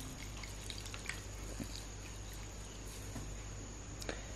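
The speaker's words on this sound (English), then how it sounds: "Take a sponge, squeeze the sponge" Water drips from a squeezed sponge into a bowl, a few faint, scattered drops falling irregularly against a quiet, steady background hum, with no voices.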